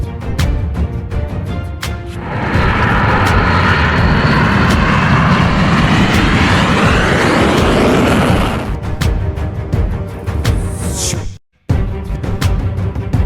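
A fighter jet engine roars loudly as the aircraft takes off, swelling into a sustained powerful blast that then fades. A brief cut of silence follows before the engine noise resumes.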